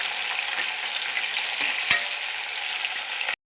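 Cumin and dried red chillies frying in oil for an egg curry, a steady close sizzle with scattered spoon-against-pan clicks as the pan is stirred, one sharper knock midway, ending abruptly.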